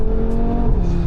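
Audi RS3 engine driven hard under heavy acceleration, a steady loud low drone with sustained engine harmonics filling the cabin throughout, no voices.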